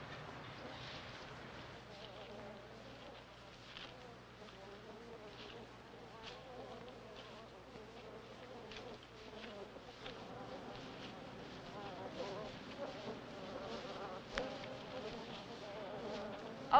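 Wild bees swarm around beehives, their dense, steady buzzing blending with wind noise and a low droning hum; the buzz swells slightly louder toward the end.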